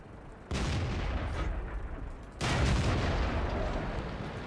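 Artillery fire in World of Tanks, two heavy booming shell impacts a couple of seconds apart, each a loud blast followed by a rumbling roll that keeps going, with no talking.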